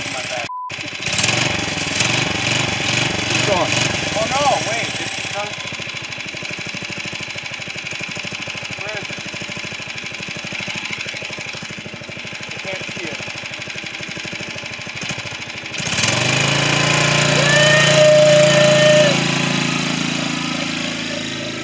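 A go-kart engine runs at its first start and speed test, a rough, buzzing small-engine drone that sputters, dips briefly, then surges louder toward the end, close by.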